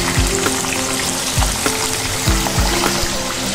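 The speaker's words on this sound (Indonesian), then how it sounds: "selanjutnya saya akan goreng ikan asin peda" Salted peda fish frying in hot oil, a constant dense sizzle with soft pops and scraping knocks of a utensil every second or so, with no voices.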